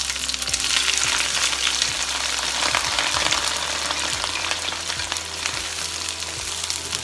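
White onion, spring onion and orange, yellow and red peppers frying in a pan, a loud dense sizzle throughout with occasional stirring clicks, close up and without speech.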